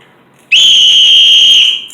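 A single loud, shrill whistle blast starts sharply and holds steady for about a second and a half before fading slightly.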